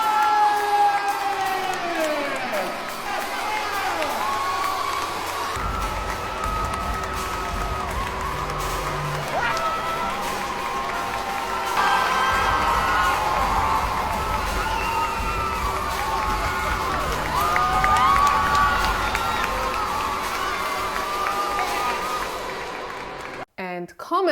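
A large crowd that includes children cheers, shouts and whoops continuously in an echoing church, with clapping and raised voices throughout.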